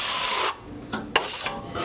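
A taping knife scrapes drywall compound in a few short rasping strokes, close and moderately loud, with brief pauses between passes.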